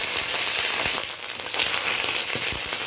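Ginger paste frying with tempering spices in hot oil, a steady broadband sizzle with a few soft stirring scrapes, close and fairly loud, no voices.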